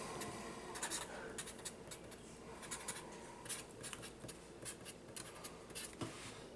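A pen scratches out a math equation on paper in short, quiet strokes with brief pauses between, faint and close.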